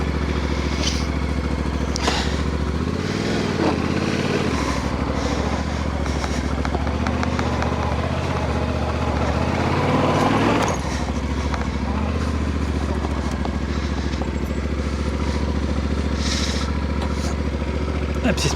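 A motorcycle idles, then pulls away and rides on in Spain, its engine rumbling steadily up close with revs rising and falling, and a voice speaks over it.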